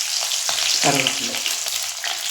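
Curry leaves crackle and spit as they hit hot oil along with mustard seeds for a tempering, a loud steady sizzle with a sharper burst of popping near the start, no voices.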